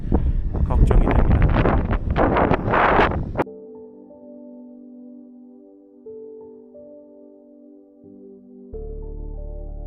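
Strong wind buffets the mic loudly for about three seconds at Unjin harbour on Jeju Island, then it cuts abruptly to soft, sustained musical tones.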